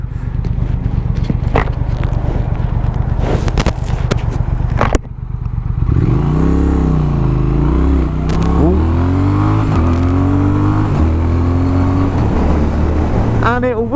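A Triumph Thruxton R motorcycle idles with a steady rumble, then accelerates hard through rising and falling revs and gear changes. The engine is loud and close, with wind noise throughout.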